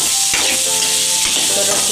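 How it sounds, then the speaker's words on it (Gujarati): Spices such as Kashmiri chili, coriander-cumin and soaked peanuts are stirred in a hot pan for farali moraiya khichdi, with a loud continuous sizzle and short scraping stirs close by, plus faint speech. "તો બધા મસાલા આપણે મિક્સ કરવાના છે"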